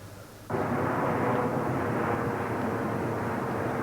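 Jet airliner passing low over Kew on the Heathrow approach path, a broad roaring rumble that swells in abruptly and holds loud and steady throughout.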